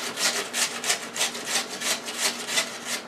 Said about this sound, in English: So this is what it looks like. Okay, alright, so we're just going to keep grating.